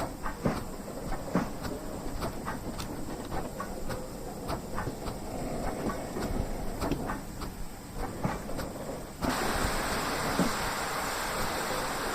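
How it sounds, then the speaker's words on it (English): BR steam locomotive 78022 shunting carriages on a heritage railway, heard as steady rumbling movement with scattered clanks and knocks of couplings and wagons, growing louder and broader near the end. "We have to shunt the carriages."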